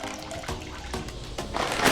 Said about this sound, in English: we're gonna put this in this colander and rinse it out really good until the water is completely clear